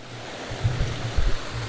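A small waterfall flows steadily outdoors beside a creek, a continuous close rush of water with some low rumbling bursts.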